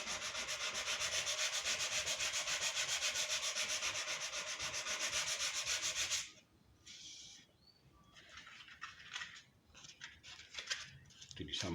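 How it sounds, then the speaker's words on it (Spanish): Fine-grit wet sandpaper rubbed briskly back and forth over a marquetry panel, a rhythmic scratchy hiss for about six seconds, then stopping, followed by quieter scattered rubbing and handling sounds. "Ahora una lija de agua, que es grano más fino, no le va a lastimar."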